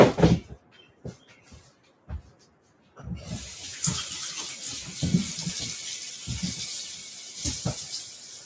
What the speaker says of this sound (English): I'm going to go wash our meat off.